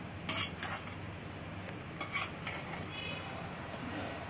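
Rice and vegetables for a masala pulao are gently stirred in a pot, with faint scraping and soft clinks of a utensil against metal over a low background hiss, quiet and without talking.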